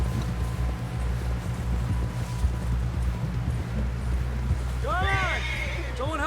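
Horse hooves clip-clopping steadily in the Red Dead Redemption II western game, a continuous walking rhythm under a low background rumble, with a brief whinny-like call near the end.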